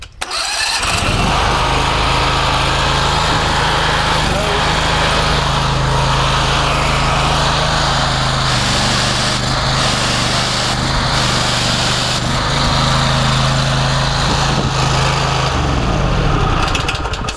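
A Loncin V-twin engine on a 30-litre machine starts and then runs steadily and loudly at close range, a strong continuous drone with a low humming tone throughout, no voices.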